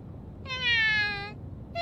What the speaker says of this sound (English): Loki, this is the first time I've seen them interact with this cat